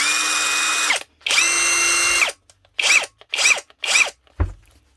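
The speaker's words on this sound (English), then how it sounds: "The AliExpress copy Milwaukee 1/2 inch impact gun" A cheap knock-off Milwaukee 1/2-inch cordless impact wrench whirs in two long runs, then fires three short bursts, ending with a thud.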